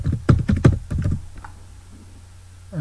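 Keys clatter on a computer keyboard in a quick burst of close, distinct strokes, then the typing fades into near silence.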